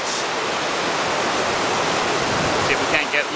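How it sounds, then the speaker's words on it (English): Glacier water from a waterfall pours down as a steady, loud roar heard up close. Brief voices come through near the end. "Beautiful glacier water, running all the way down,"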